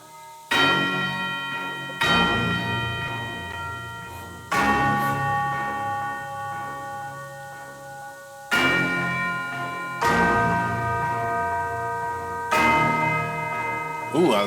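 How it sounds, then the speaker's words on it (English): Synthesized bell tones from a beat-making session ring out in repeated struck hits, each bright chime decaying slowly, spaced every couple of seconds and played alone. "Let's move up to some bells."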